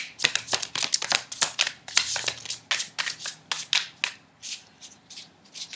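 Rapid riffling and snapping of tarot cards being shuffled, a quick series of crisp bursts close by, with a brief pause before more shuffling.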